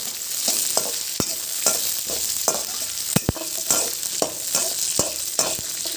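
Sesame seeds and green chillies frying in oil in a kadai, a continuous sizzle broken by repeated sharp scrapes and taps of a spoon stirring against the pan.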